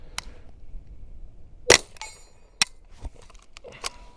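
A .22 rimfire rifle fitted with an AnechoX suppressor fires a few muffled, sharp pops at irregular intervals, with quiet metallic clicks and handling noise between shots.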